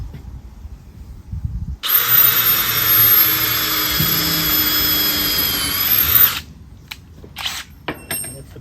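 A power drill whirs steadily for about four seconds, pre-drilling seasoned hardwood for a batten screw, loud and close, then cuts out, followed by a few light knocks and clicks.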